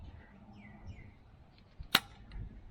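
A Glock 18 airsoft BB gun fires at a steel target about twenty metres away, producing a single sharp, close snap against quiet outdoor background noise, with no talking.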